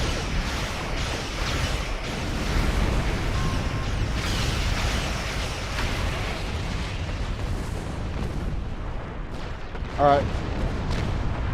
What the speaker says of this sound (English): I don't know what's exploding.